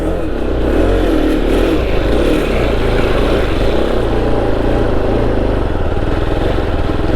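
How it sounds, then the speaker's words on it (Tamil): A motorcycle engine roars loud and close throughout, a sustained throaty drone with pulsing revs during wheelie practice, steady and unbroken with no voices. "வண்டி எப்படி அணத்துன்னு மட்டும் பாரு"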